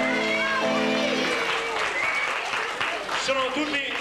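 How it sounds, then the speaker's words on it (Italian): Audience applause at an outdoor Italian festival, welcoming a new music act, steady clapping mixed with voices and tonal sounds from the stage area. "Quindi un applauso per questa iniziativa nuovissima."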